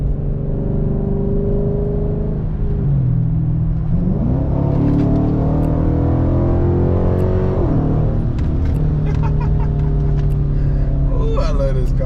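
A Chrysler 300 engine drones steadily, its pitch climbing and then dropping sharply as it downshifts, with a voice speaking faintly over the engine.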